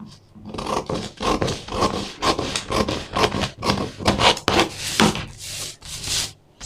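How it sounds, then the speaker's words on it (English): Scissors snip through corset fabric in a steady series of close, crisp cuts, each stroke a short rasping crunch repeating at a quick, even rhythm with no talk. "Okay, so I'm going to cut off the zipper bulge."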